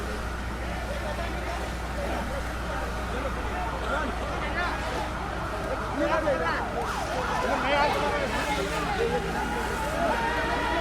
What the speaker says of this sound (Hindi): ये अगली गाड़ी पहुंच चुकी है फायर ब्रिगेड की।